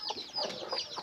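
Hens and other chickens cluck on a farm that also keeps goats, with hens settled on clay pots to lay eggs; close, busy, overlapping clucks and short calls fill the second.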